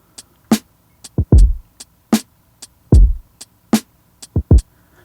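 A longer, unshortened kick drum sample in an electronic beat, deep booming hits with decaying low tails alternating with sharp clicky percussion in a steady rhythm, loud and close.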